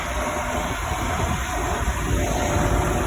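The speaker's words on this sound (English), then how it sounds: "Maybe you hear now the noise of the train station and of that bus" Steady, dense urban rumble from a Paris train station and a passing bus, heard while riding a fixed-gear bike through the city, a continuous broadband wash with no voices.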